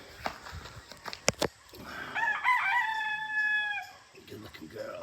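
A new batch of young chickens and chicks making clucking and chirping calls, with a short burst of sharp calls early and then a longer, louder run of calls in the middle. The sounds are close and moderately loud, and a voice is faint in the background.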